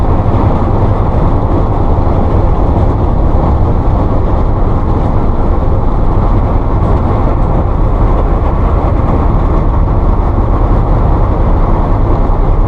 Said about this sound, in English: Vibration because the tires have they got flat spots on them.